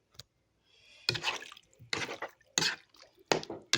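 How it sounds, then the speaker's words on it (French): Stock cube broth goes into a Hungarian goulash as several short liquid splashes and pours in separate bursts, close and fairly loud with no talk. "Ensuite, on met le bouillon, le cube."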